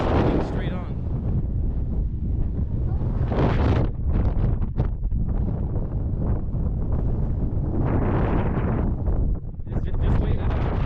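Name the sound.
strong wind at the sand dunes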